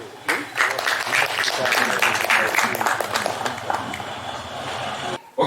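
Dense, steady applause from an audience at a book launch, sustained at full strength for about five seconds before cutting off abruptly near the end.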